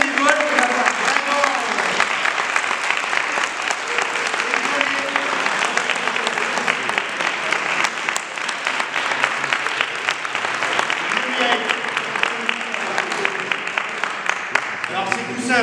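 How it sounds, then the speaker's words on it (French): Audience applause for volunteers at a charity event, a sustained, fairly loud wash of clapping lasting about fifteen seconds, with voices talking underneath throughout. "Et là, vous pouvez les applaudir."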